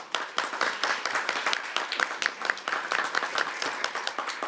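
A round of applause from an audience at a City of Tacoma livestream event, many hands clapping in a dense, lively patter with sharper individual claps throughout, moderately close and steady for several seconds.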